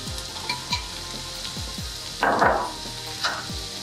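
Carrots and broccoli sizzle in a hot pan for fried rice, a steady frying crackle with periodic low thumps and a louder burst of spitting near the middle.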